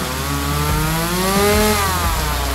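A chainsaw runs loudly up close, its buzzing engine note rising and falling as the throttle is worked over a couple of seconds, with no voices.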